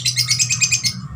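A female single-factor lovebird chirps in a rapid series of bright, high-pitched tweets, about a dozen short notes in quick rhythm, close and fairly loud with no talk.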